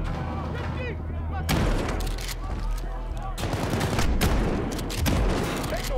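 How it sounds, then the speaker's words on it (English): Shotgun blasts ring out in the shooter game Modern Warfare, several loud booming shots in quick bursts over a busy battle background, with voices speaking in between. "Shotguns are intense in this game"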